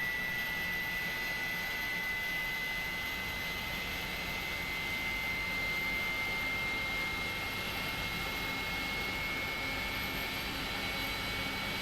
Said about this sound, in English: Those are Pratt & Whitney engines you're listening to there.